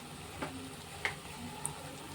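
Spice masala for a kabuli chickpea curry sizzling in oil as it is stirred, a steady close frying hiss with a few soft clicks of the spoon against the pan.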